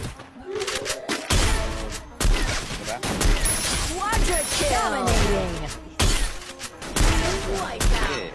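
Sniper rifle shots ring out in a mobile battle royale video game, sharp repeated cracks and impacts amid busy in-game effects, with a player talking excitedly over them throughout.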